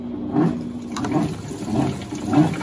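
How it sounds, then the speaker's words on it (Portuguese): Electrolux Silent Control top-load washing machine (LAC17) filling with water for the rinse cycle: a steady mid-level rush and gurgle of inflowing water with soft periodic swells, close and continuous, no talking. "Enchendo para o enxágue."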